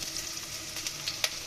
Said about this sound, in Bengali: আজকে রান্না করতেছি বিরিয়ানি।